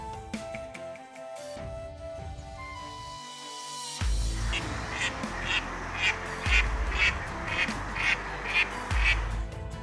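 A mother duck and her ducklings rescued from a rain sewer call near a river. Thin peeping gives way to a run of loud, close quacks in quick bursts.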